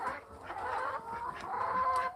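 Chickens on a small farm cluck steadily in a continuous, moderately close chorus, with a few sharper calls rising above the murmuring flock and no talking.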